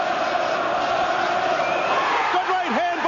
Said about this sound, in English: Listen to this crowd, the chanting, the singing.